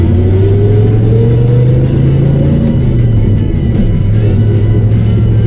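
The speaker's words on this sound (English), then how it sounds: "Got that old glass pack pop to it." A Chevy car engine idling and revving loudly nearby with a glass pack exhaust giving a deep, throaty burble and pop, pitch rising and falling.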